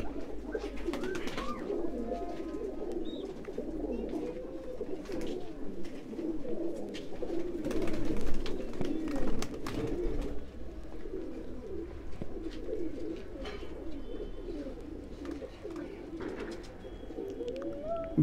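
Many pigeons, a new lot of Kasuri golden and other breeds, cooing together in a steady, overlapping murmur of low throaty calls, with occasional wing flutters and background bustle.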